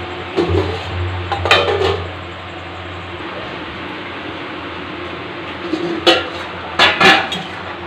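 A metal lid set onto a cooking pot, a few sharp clanks and clinks near the start and again toward the end, close by over a low background hum.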